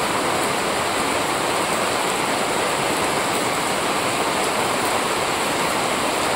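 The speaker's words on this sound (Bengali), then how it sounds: "দেখো তো কিরম জোরে বৃষ্টি পড়ছে।" Heavy rain pours steadily and loudly, a dense continuous hiss with no pauses and no voices.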